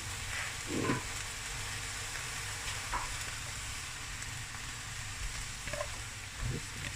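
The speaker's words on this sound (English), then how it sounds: "Now I'm going to do the English baby spinach. And this will all cook down very quickly." English baby spinach cooking in a hot pan gives a continuous dense sizzle and hiss, with occasional soft stirring bumps and spatters, steady and close.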